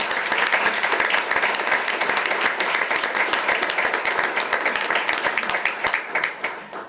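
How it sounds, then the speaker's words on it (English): A school board meeting audience gives a round of applause, crisp individual claps standing out in a close, steady burst that tapers off at the end. "Let's give them a round of applause."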